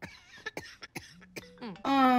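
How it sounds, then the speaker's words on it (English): A series of sharp, close coughs and throat-clearing bursts, spaced irregularly, followed by a brief voice at the end. "Why are we coughing?"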